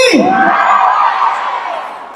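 A crowd of Filipino overseas workers at a service caravan in Dubai lets out a single loud, brief shout of cheering that swells at once and fades over about two seconds.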